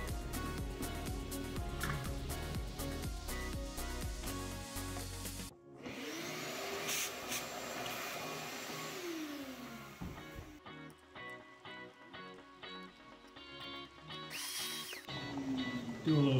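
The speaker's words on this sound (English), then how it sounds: "do a little small grinding" A small rotary tool grinds on a Hummingbird Helix 12 fish finder under repair, a close whirring buzz that rises and falls in pitch, with brief gaps and changes in load.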